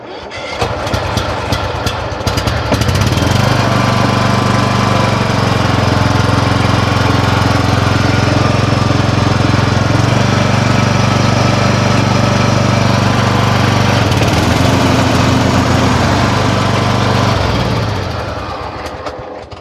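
A riding lawn mower engine cranks with a few quick starter bursts, catches, and then runs at a loud, steady idle for many seconds before winding down at the end.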